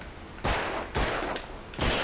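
Three sharp gunshots crack out in the video game Alan Wake, evenly spaced about half a second apart, each loud and booming over a noisy game background.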